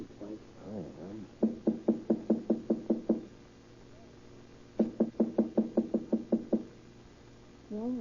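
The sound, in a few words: knocking on a door in a radio drama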